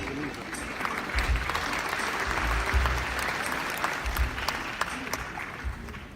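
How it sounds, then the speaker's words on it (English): An audience at a formal conference applauds a keynote speaker, a full, close crowd of clapping that holds steady for several seconds with a few louder bursts. "Everyone, let's please give Ambassador Kim Bong-hyun a big round of applause."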